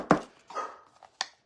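Dogs barking indoors, a few sharp, loud barks spaced apart with a short whine between them, close to the microphone.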